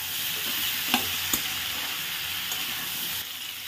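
Tomatoes stirred into spinach and mixed vegetables frying in a pan give a steady close sizzle, with two brief clinks of a utensil against the pan and no talking.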